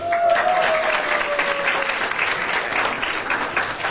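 A crowd at a school regional competition in Eswatini applauds loudly for a high school receiving a trophy, a dense, sustained burst of clapping with a faint tonal whistle early on.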